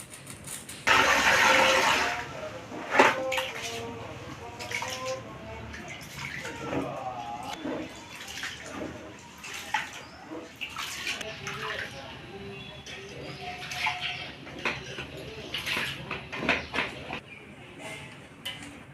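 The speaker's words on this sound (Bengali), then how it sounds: "খিচুড়ি জল বসিয়ে দিয়েছি, এবার চাল ডালগুলো আমি ধুয়ে দিয়ে দেবো।" Rice and lentils are washed in water in a kitchen, with splashing, pouring and swishing that rise and fall in short bursts under intermittent speech.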